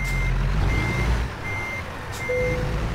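A truck backing up with a trailer in American Truck Simulator, its reversing alarm beeping in a steady repeating pattern over a low engine rumble, with one short higher tone near the end.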